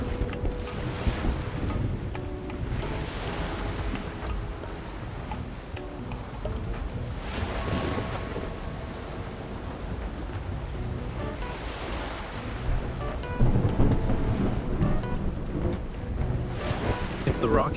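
Stormy ocean waves churn and wind roars around a rocking boat at sea in the game Love and Deepspace, a steady, dense wash of surf with gusting swells and no distinct thunder.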